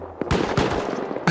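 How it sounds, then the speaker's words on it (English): Automated turrets in a base-building video game fire at the player, loud sharp gunshot bursts in a rapid irregular volley with one last shot at the end. "Why was I being shot by my own turrets?"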